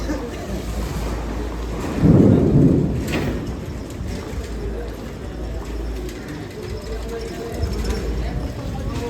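Rain and rolling thunder at a vegetable market, with a loud rumble swelling near the start and a steady wash of rainfall underneath, mixed with faint voices.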